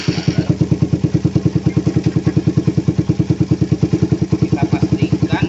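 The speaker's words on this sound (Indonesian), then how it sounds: "Oke, langsung saya hidupkan motor." A Suzuki Satria FU motorcycle engine starts and runs steadily close by, its fast, even exhaust pulses thumping in a regular beat for several seconds with no talk over it.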